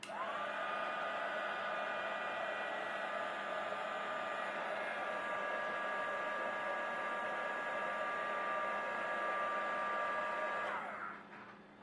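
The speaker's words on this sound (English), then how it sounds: "put my butterfly blank right back on the surface. And once again, hit it with the heat gun." A heat gun blows steadily and loudly for about eleven seconds, melting iced enamel powder on a butterfly blank, with a continuous whooshing roar that cuts off sharply near the end.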